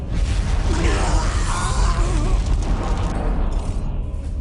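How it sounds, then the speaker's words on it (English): A massive Titan cannon fires in the Warhammer 40k: Dawn of War Soulstorm strategy game, a loud sustained boom and rumbling roar with whooshing debris filling the whole span, fading slightly near the end. "On my command, fire the Titan cannon."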